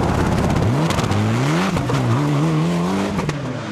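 A rally car takes a hairpin during the 2013 Lark in the Park Rally, its engine loud and close, revving up and down in quick surges with brief tyre squeals as it turns.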